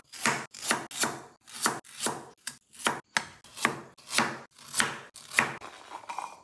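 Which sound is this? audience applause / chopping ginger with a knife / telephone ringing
chopping ginger with a knife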